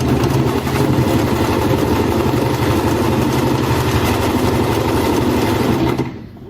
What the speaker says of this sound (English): we place the fabric in, set it to a straight stitch and then press down on the pedal